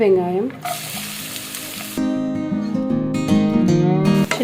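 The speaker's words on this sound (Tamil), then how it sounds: "வெங்காயமாக கொஞ்சமாக வதக்கிக்கோங்க." Small onions sautéing in hot oil in a pan for chicken curry, a close, strong sizzle with stirring, layered under background music.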